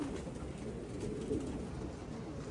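Racing pigeons coo softly after a seven-mile training toss, a low, faint burbling call rising briefly over quiet background noise near the loft.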